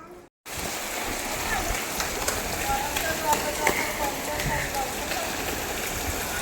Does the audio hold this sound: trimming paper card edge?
no